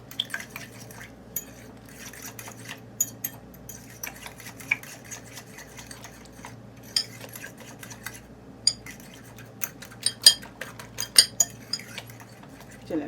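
Eggs and black pepper are stirred in a bowl, with intermittent light clinks and taps of a utensil against the bowl over a quiet background.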